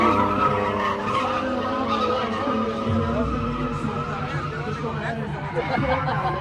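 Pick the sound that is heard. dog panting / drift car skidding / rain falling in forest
drift car skidding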